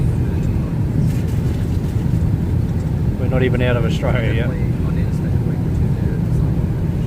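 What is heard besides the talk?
airplane engine noise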